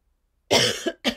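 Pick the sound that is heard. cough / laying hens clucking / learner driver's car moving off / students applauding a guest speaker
cough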